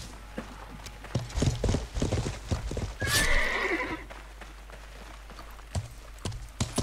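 Horse hooves clip-clop and a horse whinnies in the medieval survival game Life is Feudal, with a loud neigh in the middle among scattered hoofbeats; faint voices are also present.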